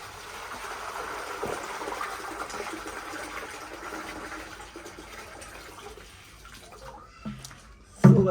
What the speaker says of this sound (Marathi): आता म्हशीला पाणी पाजवायला घेऊन आलोय तर पाणी पाजूया आता म्हशीला पहिला